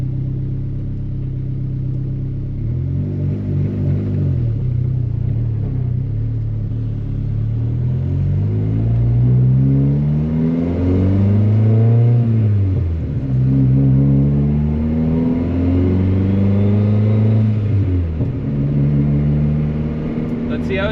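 Car with a built turbo D16 engine running E85 pulls away, its engine note climbing and falling through several gear changes, loud and close inside the cabin.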